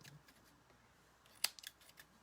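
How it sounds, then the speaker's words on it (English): A few faint, quick scissor snips at paper, clustered mid-clip against near silence while crafting with glue-smeared blades. "I've got glue on my scissors"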